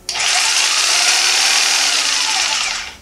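A DEKO variable-speed jigsaw runs at its second speed setting, a steady, loud, close-up buzzing whine that holds evenly for about three seconds before cutting off.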